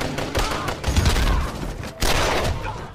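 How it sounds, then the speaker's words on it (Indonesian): Dense gunfire in a Rambo action film battle: a continuous clatter of rapid shots with low booming thumps underneath, loud and close, surging again near the end, no talk. "Sembari Rembo mengisi amunisi, Skullboy melindunginya menggunakan sniper."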